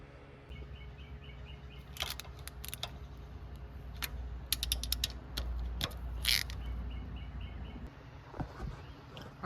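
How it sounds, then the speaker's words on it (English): A ratchet tightens bolts on the stator cover of a Polaris RZR 1000 over a low engine-bay hum, with clusters of quick metallic clicks in short bursts and pauses between them, close by. "now it's time to put it onto our machine and get it bolted back on."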